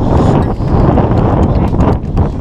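Mountain sheep on a rocky Himalayan trekking trail near Kanchenjunga clatter away, a loud flurry of hoof clicks on stone over gusting wind noise.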